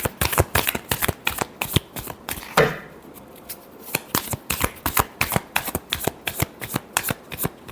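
Tarot cards being shuffled by hand, a fast run of crisp riffling flicks and slaps in steady rhythm, close and fairly loud, with a brief louder riffle partway through and no talk.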